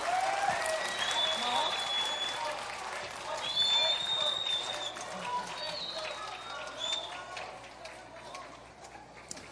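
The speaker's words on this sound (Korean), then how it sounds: "우리 피아니스트 조영희 님을 큰 박수" Audience applause for performers at a concert, steady crowd clapping with some voices and calls mixed in, swelling slightly midway before easing.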